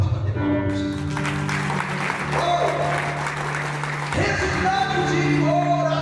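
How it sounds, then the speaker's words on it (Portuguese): A church congregation at a Catholic sermon breaks into applause, with a steady wash of clapping under a sustained musical tone and some voices, moderately loud throughout. "Pode bater palmas."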